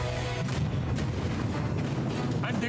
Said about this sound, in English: Exploded on the ground below into approximately 280 million pieces